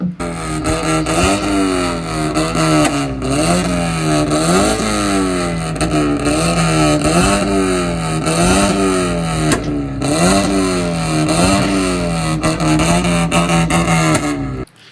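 A Mazda NC Miata with an aftermarket exhaust revs repeatedly, its engine note climbing and dropping in rough, rhythmic pulses about every second and a half, loud and close with no talking.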